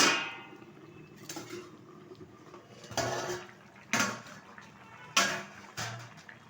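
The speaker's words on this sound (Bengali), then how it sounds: "ঢাকনাটা তুলে দিচ্ছি" A metal lid clangs on a pot of fish roe curry with ridge gourd and potato, giving several sharp, close knocks at uneven intervals over faint background hiss.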